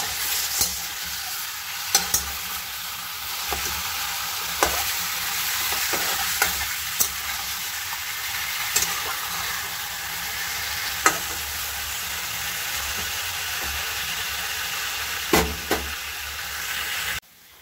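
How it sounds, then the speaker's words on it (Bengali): Chicken pieces fry in hot oil with a loud, continuous sizzle and hiss, and a spatula or spoon occasionally knocks and scrapes against the pan as the meat is stirred, all close with no voice. "মাংসগুলোকে ভালো করে ভেজে নেব"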